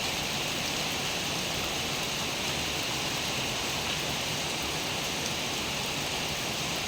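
Heavy rain pours steadily over a durian orchard in Ban Noen, Thailand, a dense, even hiss with no gaps and no voices.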